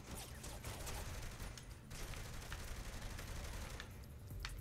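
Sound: enemy gunfire in Saints Row: The Third video game

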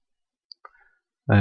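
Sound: computer mouse click on a web link

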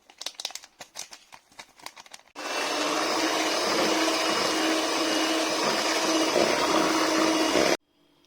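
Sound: electric mixer whisking cheesecake batter with flour and vanilla

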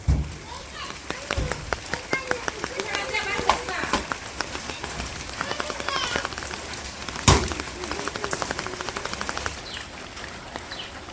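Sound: rain falling on surfaces

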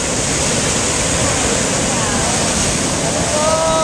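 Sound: ocean waves surging into a lava rock pool

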